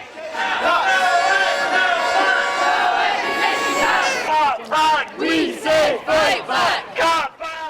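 Around 2,000 protesters marching down University Avenue raise a sustained loud crowd roar of shouting, which gives way to rhythmic, evenly spaced chanted phrases repeated in a steady call-like beat.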